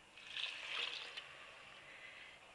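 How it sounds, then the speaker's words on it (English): Stock being poured into a pan for a mushroom pilau, a soft splashing trickle that swells twice and then fades within a few seconds, fairly quiet and close. "So we're going to pour that in."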